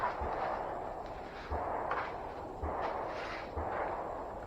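Gunshots ring out in a steady series of four dull booming reports roughly one second apart, heard at a distance beneath a constant noisy background near a C10 truck chassis project.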